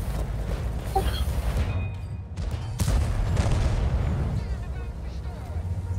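Tank cannon fire in the World of Tanks video game: booming shots and explosions over a rumbling battle bed, with a heavier burst near the middle, heard under ongoing talk.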